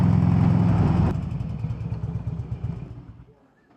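Harley-Davidson Road King motorcycle engine, loud and close at first, then a rough, pulsing rumble that fades away as the bike rides off.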